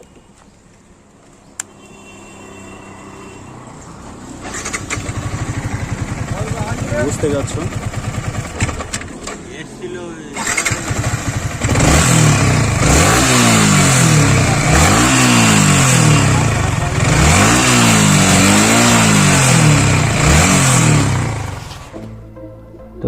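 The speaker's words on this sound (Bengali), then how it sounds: "গাড়ির সাউন্ডটা শোনানো হয়নি, কেমন একটা বাজে আওয়াজ আসছে চিটচিট করে, যেটা খুবই ইরিটেটিং" Motorcycle engine with an irritating tappet noise, idling and then revved repeatedly in rising and falling surges, loud and close, with a rattly ticking over the engine note and someone speaking briefly before the revs.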